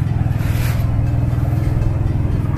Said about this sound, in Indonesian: Naik perahu, naik pompong. Tuh, dengar bunyinya.